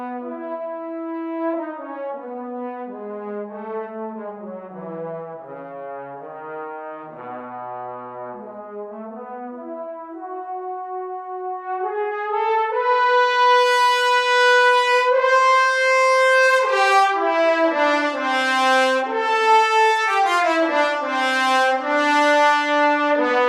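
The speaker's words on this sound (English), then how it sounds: "Then we have the trombones, which sound like this" Sampled trombones from the Cinematic Studios brass library play a slow, expressive melodic line that starts low and mellow and then swells into a louder, brighter passage, with no talking.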